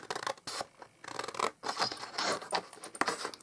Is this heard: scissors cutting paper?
yes